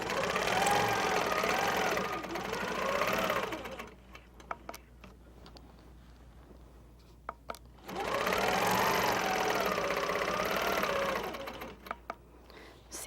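An HQ longarm quilting machine stitches a clamshell pattern guided by a template, whirring loudly in two long sustained runs separated by a quiet pause with a few soft clicks.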